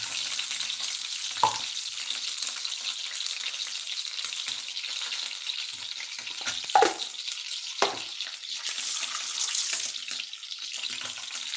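Kilangan fish sizzles steadily in hot oil in a pan, a continuous bright crackling hiss broken by a few soft clunks as pieces are moved, with no talking.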